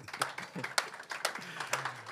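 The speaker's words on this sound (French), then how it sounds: "je pense qu'on peut applaudir Ahmed" A small group claps for a presenter at a community collective event. Irregular, loose handclaps sound close by for about two seconds, with no speech over them.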